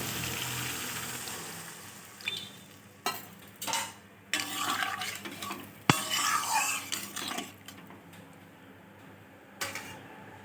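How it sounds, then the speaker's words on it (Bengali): Water poured into a pan of prawn curry and stirred, with a soft frying hiss and irregular clattering scrapes of a utensil against the pan, several louder bursts of stirring at moderate distance. "এবার আমি এখানে কিছুটা জল অ্যাড করে দিচ্ছি।"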